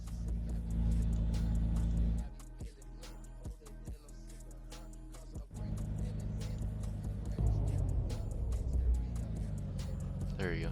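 A BMW S55 engine decelerates in a video game sound mod, a low droning engine tone falling away with a series of sharp clicks and pops, followed by a quieter, rumbling drone as the revs settle.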